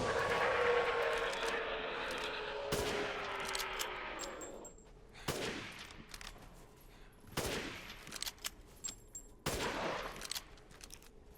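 Gunfire rings out in the video game Resident Evil Village. Several sharp single shots are spaced a second or two apart over a low ambient game soundscape, with faint tonal chimes between them.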